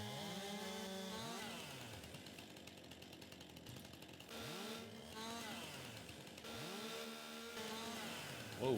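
A chainsaw cuts down trees to clear land in the Farming Simulator video game. Its engine revs loud and close in repeated rising and falling bursts, steady and alone throughout.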